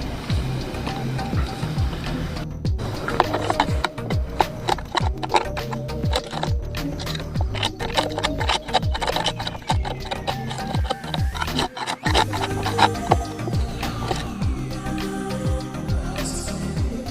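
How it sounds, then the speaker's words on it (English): Wood is scraped out by hand on a boat, giving close, repeated rasping strokes in irregular bursts with brief pauses over a steady background. "I've about scraped this out, as well as I can fuss with it longer"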